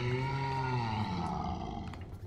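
A Big Daddy in the video game BioShock Remastered lets out a deep, moaning roar. The low, tonal groan slowly bends downward in pitch over about two seconds and stands alone, with no talk over it.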